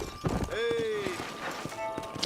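Horse hooves clip-clopping in Red Dead Redemption, a few quick hoof thuds heard under a voice speaking, with a brief tonal whinny-like sound in between.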